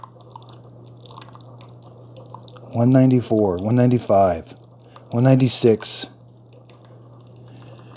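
A Keurig K-Supreme Plus single-serve coffee maker brews into a cup with a steady, soft trickle and low machine hum, while a person briefly speaks over it.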